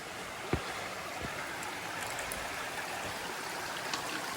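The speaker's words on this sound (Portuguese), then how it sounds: "Primeira parada, Cachoeira da Bocaina." Rushing water from the Cachoeira da Bocaina waterfall forms a steady, fairly distant broadband roar with a couple of faint knocks, no talking.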